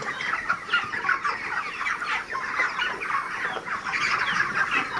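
A flock of chickens on a poultry farm, recovering after treatment for Ranikhet virus, clucks continuously in dense overlapping calls at close to moderate range, with no talking.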